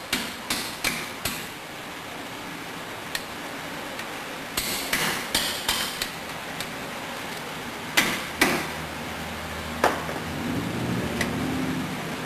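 A hammer taps out a bolt on a Corvette C3 chassis being rebuilt with Van Steel parts, giving close, sharp metallic strikes, some in quick clusters of three or four and others single, spread irregularly over the stretch.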